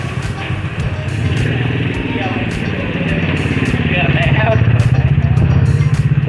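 On Ban Bao Pier at Koh Chang, a motorcycle engine putters nearby, growing steadily louder as it approaches over the sound of the surroundings.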